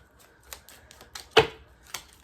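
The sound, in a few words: shuffling a deck of cards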